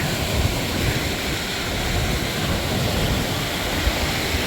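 Waves break along a Lake Michigan shore at high water, a loud, continuous surf roar with wind noise and no distinct separate crashes.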